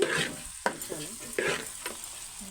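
Chili powder fries with onion in a pan for a village-style Telugu onion, green gram and egg curry, a soft sizzle broken by several scraping stir strokes and spoon knocks at uneven intervals.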